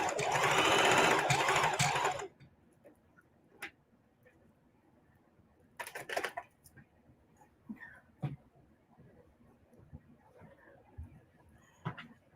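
Sewing machine stitching around a pocket on a vintage rag quilt, a loud close burst of stitching for about two seconds, then quiet handling clicks and a second short run of stitches.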